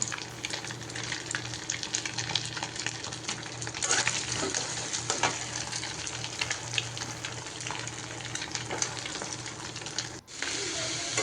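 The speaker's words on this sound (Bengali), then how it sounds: "এই যে প্রথমে একটা ডিম দিয়ে আমি ভাজা ভাজা করে নিচ্ছি" An egg frying in a pan as the start of a cabbage stir-fry gives a steady, close sizzle with scraping and stirring clatter throughout, briefly dipping near the end.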